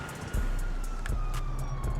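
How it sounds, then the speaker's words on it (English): Police sirens wail in the GTA 5 video game, a rising and falling electronic tone over dense street and engine noise with scattered thumps. "I hear sirens. I'm gonna have to move."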